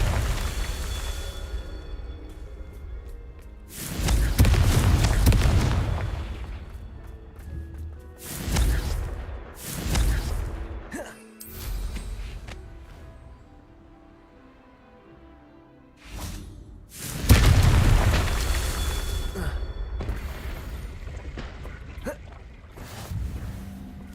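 Blasting-curse explosions in a Harry Potter video game, several heavy booming bursts and whooshes spread across the stretch with quieter rumbling gaps between, loud and with no talk.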